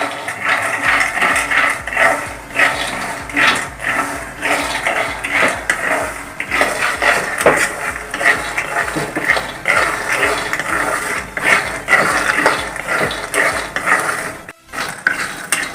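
Peanuts are stirred and roasted in a pan over a medium flame for peanut candy. A spoon scrapes and clinks against the metal in a busy, close, continuous rhythm with no one talking.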